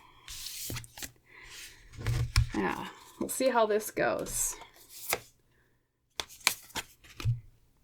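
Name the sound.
tarot cards being shuffled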